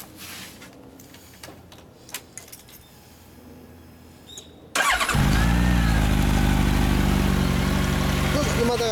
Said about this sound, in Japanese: エンジン音聞かせてもらえますか？